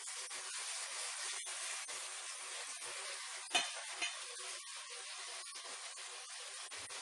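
Fish fries in a pan with a faint, steady hiss and sizzle that runs the whole time, broken by a couple of soft clinks of a spatula turning the pieces.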